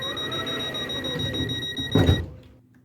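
Electronic beeps from a homemade space transit game: a bright, sustained synthetic tone that holds steady, then stops, leaving a brief soft thump and a fading tail.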